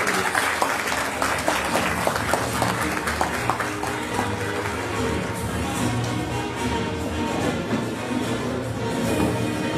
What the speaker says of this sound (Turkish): şimdi alkışlarımızla Tarım ve Orman Bakanımız Profesör Doktor Vahit Kirişli Beyefendi'ye konuşmalar için sahneye davet ediyoruz